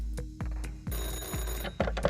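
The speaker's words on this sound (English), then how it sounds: "get another phone call" A phone rings in Car Dealer Simulator, a video game: repeated short electronic trills in a regular pattern, loud and close, with no talking.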